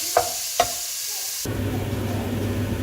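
Onions frying in a pot for a one-pot vegetable biryani: two sharp knocks of a utensil, then a steady hiss and crackle of frying that rises and continues evenly to the end.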